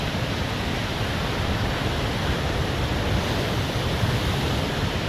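A waterfall pours in a heavy rainstorm near Nelson, New Zealand, a dense, unbroken roar of rushing water and rain filling the air at steady loudness.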